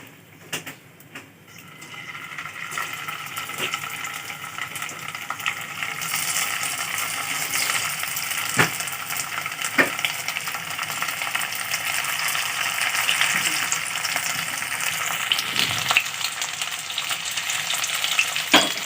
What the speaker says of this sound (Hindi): हमारे पनीर हो गए हैं फ्राई।